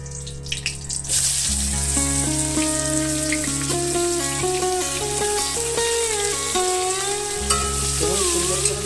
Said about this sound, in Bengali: এবার দিয়ে দেবো কেটে রাখা পেঁয়াজগুলো।